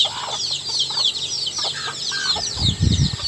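Chickens around nests of freshly laid eggs, with a steady chorus of close, busy clucks and chirps, plus some low rustling toward the end.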